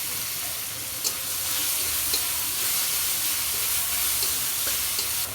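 Green chilies, onion and garlic fry in oil in a wok for a jackfruit dish, a steady close sizzle with a few faint clinks of stirring scattered through it.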